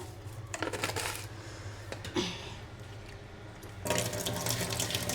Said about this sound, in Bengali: ছোট মাছটাই যেখানে ধোয়া হচ্ছে, ধুয়ে নিচ্ছিলাম।